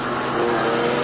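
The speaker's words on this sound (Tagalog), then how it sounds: "Padinig ko sa inyo yung tunog ng makina nya." The engine of a Mitsubishi Lancer with a low-power fault runs steadily, heard close up as an even mechanical hum and whir with no voices.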